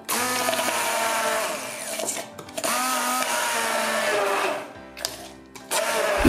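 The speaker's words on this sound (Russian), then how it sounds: "Перебиваю это все в однородную массу." A blender whirs loudly, purée-ing hot pepper, garlic, lemon juice and cream cheese thinned with cream, running in steady bursts with its motor pitch wavering and dropping briefly during short pauses.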